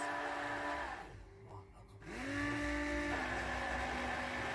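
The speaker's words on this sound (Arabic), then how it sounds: "ببلش أحرك بالبلندر شوي شوي لحتى الزيت يلي بالأعلى يختلط بكل الكمية." A hand blender whirs through homemade mayonnaise with a steady motor drone whose pitch dips as it bogs down, then climbs back and holds a high, even whine.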